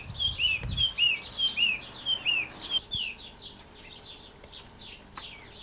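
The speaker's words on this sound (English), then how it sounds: "lots of birds singing in there this afternoon too" Several small birds sing and chirp in a flowering pohutukawa tree in a garden on an afternoon, with repeated bright whistled phrases close by over a soft background hush and a brief low bump early on.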